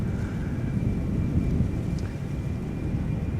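Embraer 190 jet of a regional airline climbing out from the Polderbaan runway at Amsterdam Schiphol, a loud, broad, rumbling roar that holds steady for the whole short stretch, with no voices.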